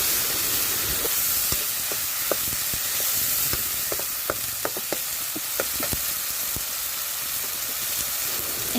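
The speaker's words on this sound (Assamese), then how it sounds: "পাঁচফোৰণ দি এতিয়া মছলাখিনি মই দি দিছোঁ। অকণমান লৰাই দিম এতিয়া।" Spices crackle and sizzle in hot oil in a kadai as they are stirred, a steady frying hiss with sharp pops and occasional scrapes scattered throughout, close and fairly loud.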